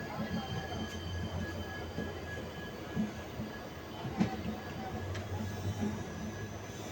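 A Donyi Polo Express passenger train rolls along the rails past Guwahati station, with a steady rumbling clatter of wheels, occasional metallic clanks and faint squeals, heard from inside the moving train.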